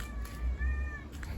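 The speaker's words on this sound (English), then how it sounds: "Noise is coming from this cat," A loud-mouthed neutered male cat gives one drawn-out, wavering meow outdoors, near and fairly clear over faint background noise.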